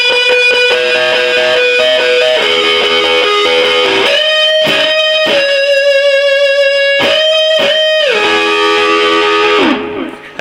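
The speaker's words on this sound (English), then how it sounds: "you can hear I put the distortion onto my amp" A distorted electric guitar plays a sustained lead melody, notes ringing with echo and bending between pitches before a final slide down.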